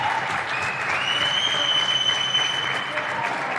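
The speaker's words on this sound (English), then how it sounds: "Huge applause. The crowd loved that one." Sustained applause from a crowd at a professional squash match, the BDO Namibian Open, a steady dense wash of clapping holding level throughout with no voices on top.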